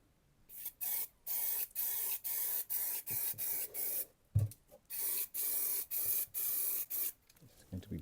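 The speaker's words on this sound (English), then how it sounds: "I'm going to spray the primer first" Aerosol can of primer sprayed in short repeated bursts, roughly a dozen hissing blasts each about half a second with brief gaps, close and fairly loud, ahead of MTN PRO silver chrome effect paint.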